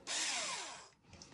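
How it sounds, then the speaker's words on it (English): A power drill drives a screw into a DIY clock, one short close whir that winds down in pitch, followed by a faint tail of noise. "But for today's video, I'm just using a drill because it's faster."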